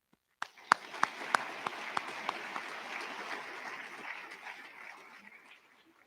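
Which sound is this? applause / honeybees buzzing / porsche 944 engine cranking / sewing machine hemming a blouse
applause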